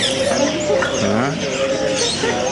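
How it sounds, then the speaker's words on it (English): Pigeons coo in low, repeated warbling phrases close by at Souq Waqif, mixed with other bird chirps and busy market background noise, with a voice speaking over them. "Birds. Birds. Birds."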